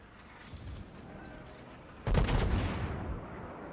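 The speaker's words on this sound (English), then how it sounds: "Oh, I didn't meant to fire all my guns" A Colorado-class battleship in World of Warships fires a full main-gun salvo: a heavy booming blast at about two seconds, rolling out over a steady background rumble of the ship and sea.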